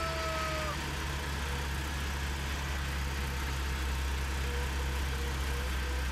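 A tractor engine idles steadily in a farming video game, a constant low droning hum with a faint tonal whine that carries on unchanged throughout.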